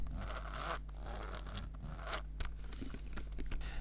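The smoothly turning wheel of a Sony Rolly music player, a steady close-up whirring scrape with faint scratchy texture and no clicking, heard alone.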